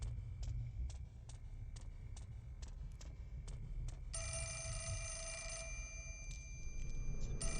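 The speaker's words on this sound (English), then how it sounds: "Oh, the phone." A telephone rings in Fatal Frame: Mask of the Lunar Eclipse with a rapid series of electronic trills, then a long continuous ring over a low rumble.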